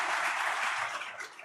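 Audience applause for India's Finance Minister at the HTLS 2025 summit, a dense, steady wash of many clapping hands filling the room, loud at first and easing slightly toward the end.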